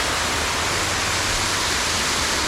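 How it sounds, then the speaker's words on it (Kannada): Waterfall near Dandeli roaring loudly, a dense, constant rush of falling water filling the whole clip up close, with no talking. "ಈ ಸೈಡ್ ನೋಡಿದ್ರೆ ನೀವು ಫಾಲ್ಸ್ ಎಷ್ಟು ಜೋರಾಗಿ ಬರ್ತಿದೆ ಗೊತ್ತಾ? ಸೌಂಡು ಅಷ್ಟೇ ಜೋರಾಗಿ ಕೇಳಿಸುತ್ತೆ"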